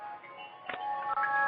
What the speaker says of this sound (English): So sounds like an ice cream truck.